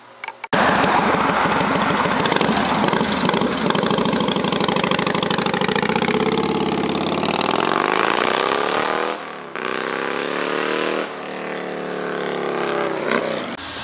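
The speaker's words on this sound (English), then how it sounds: "I always like getting a shot of that thing tearing down the road" Harley motorcycle tearing down the road, a loud, close engine roar that pitches down as it passes, then fades and picks up again briefly.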